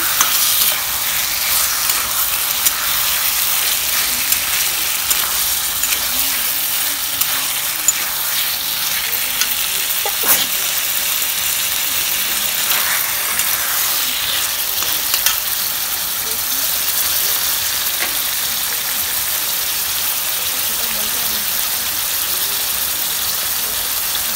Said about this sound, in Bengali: ভালো করে কষানো হচ্ছে।